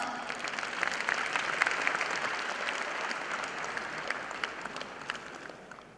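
An audience at an international conference for CA students applauds with steady, moderately distant clapping, dense and even, fading slightly at the end.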